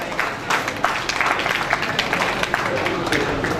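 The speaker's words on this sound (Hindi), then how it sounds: "जोरदार तालियां हो जाए लेडीज एंड जेंटलमैन" Audience at a computer education institute's annual celebration applauding, dense continuous clapping with scattered sharper claps and crowd noise, moderately loud and unbroken.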